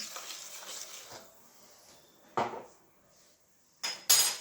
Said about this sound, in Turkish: Şöyle malzemelerimizi güzelce güzel karıştıralım.